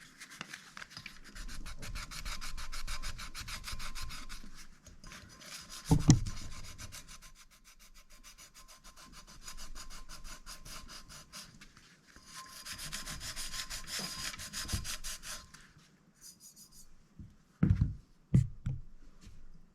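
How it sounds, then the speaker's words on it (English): Sandpaper rubs by hand across a DIY-decorated pilsner glass in long, soft scratchy strokes, quiet and close, pausing between passes, with a couple of light knocks near the end. "is take some sandpaper and I'm going to rub that off of there"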